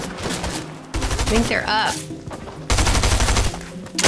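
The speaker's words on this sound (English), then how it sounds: "They're shooting at me too." Rapid gunfire in a shooter video game comes in two loud dense bursts, with a short squealing effect between them and a player's voice speaking over the shots.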